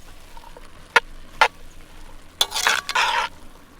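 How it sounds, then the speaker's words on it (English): Stirring soup with beans and sweet potato in a Dutch oven over a campfire: a couple of sharp spoon knocks against the pot, then a short burst of thick, wet scraping and sloshing. "give all this a good stir"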